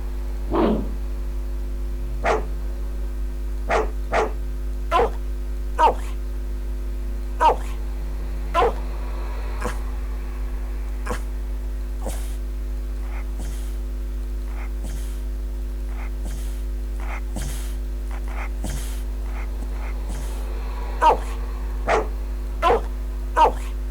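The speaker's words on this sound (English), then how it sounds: "I also have dog sounds somewhere" Dog barking sound effects: scattered sharp barks and yips, some in quick pairs and clusters, ring out over a steady electrical hum, moderately loud and spaced irregularly, with no speech.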